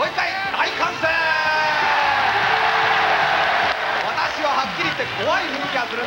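Large indoor crowd roaring and cheering at a live broadcast from a sports fair venue in an arena, with shouts and whoops blending into a loud, sustained wall of noise that holds for several seconds and fades slightly near the end.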